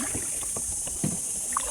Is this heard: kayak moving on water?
yes